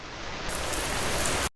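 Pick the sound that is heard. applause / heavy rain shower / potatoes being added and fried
heavy rain shower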